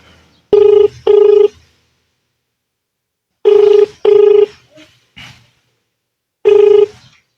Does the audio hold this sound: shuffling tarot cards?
no